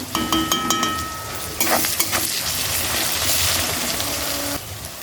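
Garlic sizzles loudly in hot oil in a pan while being stirred, a steady broad frying hiss with scraping stir strokes and a brief louder burst partway through.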